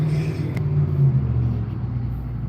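Steady low rumble of evacuating cars in road traffic as people flee an approaching Florida hurricane, a continuous drone of engines and tires with a brief sharper click partway through and no talk.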